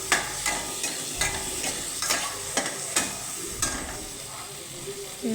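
Marinated chicken for a Bengali chicken curry frying with onions in a pan, producing a steady, close sizzle broken by repeated stirring scrapes and clacks at a regular pace.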